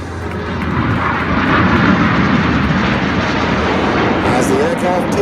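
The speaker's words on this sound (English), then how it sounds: "As the aircraft peel away, red 6 and 7 staying low with the coloured smoke on" Red Arrows-style display jets peeling away trailing coloured smoke at the Canadian International Air Show, a loud sustained engine roar that swells and holds, with a commentator talking over it.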